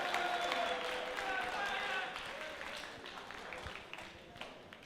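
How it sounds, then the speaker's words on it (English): Audience applause at a gathering, a steady wash of many hands clapping that holds fairly even and slowly fades, moderately distant with no other sound on top. "So give yourselves a round of applause."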